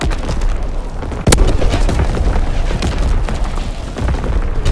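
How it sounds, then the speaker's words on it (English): Enemy artillery in the Call of Duty: WWII video game: a loud booming blast lands amid a dense rumble of battle, close and heavy, with no talk. "Incoming enemy artillery!"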